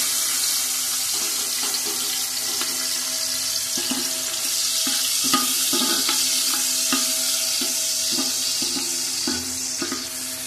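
Cashews with cinnamon, cardamom and cloves frying in ghee for fried rice: a steady close sizzle with repeated light stirring clicks and scrapes of a utensil, no voices.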